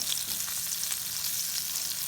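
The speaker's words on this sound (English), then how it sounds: "Then leave these to carry on frying rather." Steady crackling sizzle of patties frying in a hot pan, continuous and close, with no talking.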